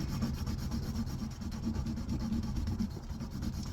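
Jeweler's rouge is rubbed onto a scrap leather strop in steady, close back-and-forth scrubbing strokes, with no talking.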